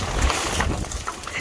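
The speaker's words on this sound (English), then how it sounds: "It is quite windy" Rough, gusty wind buffeting the microphone in a low continuous rumble for a brief moment, outdoors in a garden.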